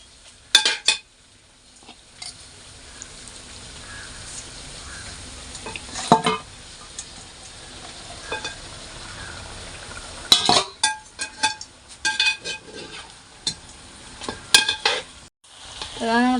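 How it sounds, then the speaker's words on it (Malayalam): Chicken pieces are stirred into masala gravy in a pan, with soft sizzling under scattered spoon scrapes and metallic clinks that come in bursts against the pan. "ചിക്കനൊക്കെ ഇട്ടിട്ട് കാണിക്കാം നമ്മൾ കുറച്ച് കുറച്ചായിട്ട് ഇട്ടിട്ട് നല്ലപോലെ മിക്സ് ചെയ്യണം"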